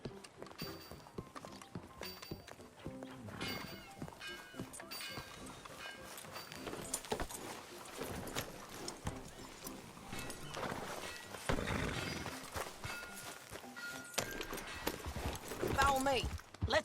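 Horse hooves clip-clopping during a ride in Red Dead Redemption 2, a steady trotting rhythm under game music and characters talking throughout.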